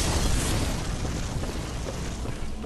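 Fire bomb blast in the Bloodborne game, a loud, dense roaring burst of noise that stays heavy and sustained throughout, with no voices over it.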